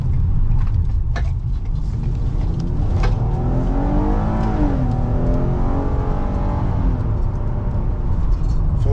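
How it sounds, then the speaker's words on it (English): A Ford Explorer Police Interceptor with all-wheel drive makes a U-turn, its engine note rising and falling steadily and loudly at close range throughout, with no talking. "Full-blown cop car U-turn."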